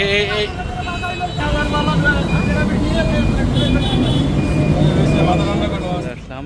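Road traffic in a jam, heard from inside an auto rickshaw, forms a loud continuous engine rumble with tonal horn-like whines. People talk over the noise throughout.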